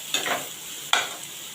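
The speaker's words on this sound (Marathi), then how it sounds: "कांदा आपण चांगला परतून घेऊया आणि त्याला चांगला मऊ बनवूया" Chopped onions sautéing in hot oil in a pan, with two quick spatula scrapes over a faint, steady sizzle, close by and with no talk.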